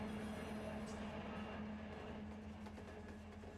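A freight train rolls along in the Run 8 railroad simulator game, a steady low rumble with a faint tonal hum running throughout the clip at moderate level.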